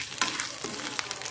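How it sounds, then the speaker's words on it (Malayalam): Sliced coconut sizzles and crackles in hot oil in a kalathappam kitchen, a steady close frying hiss with small stirring clicks and no voices. "ചൂടായ എണ്ണയിലേക്ക് അരിഞ്ഞ് വെച്ച തേങ്ങ നമുക്ക് ഇട്ട് വറുത്തെടുക്കാം"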